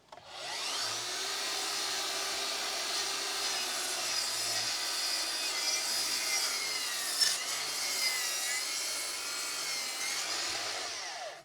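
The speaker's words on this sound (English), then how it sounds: "I then cut a steep bevel on the ends so that you wouldn't be able to see them from the side." A saw cuts a steep bevel across the ends of wooden deck boards for a platform built in the woods. It makes one steady, loud, rasping cut that runs unbroken for about eleven seconds.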